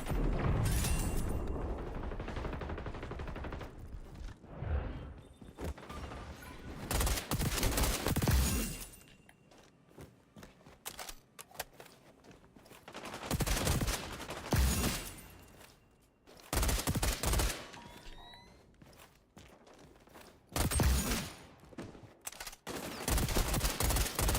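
XDefiant gunfire in a multiplayer shooter match, loud bursts of rapid automatic fire broken by short quieter gaps, repeated volleys recurring throughout, mostly without talk.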